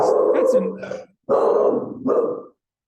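A dog that has just woken up barks and growls at its own reflection in a window, in two loud, close bursts separated by a short pause, with people talking over it.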